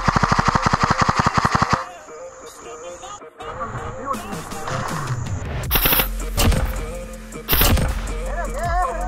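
During an airsoft game, an airsoft gun fires a rapid burst of close, sharp shots at snipers, then falls quiet among rustling footsteps and scattered bumps and knocks.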